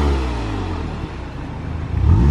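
A Volkswagen Golf R 7.5 engine revs while stationary in a retail park car park, a steady low rumble that dips midway and then swells louder at the end, with no popping.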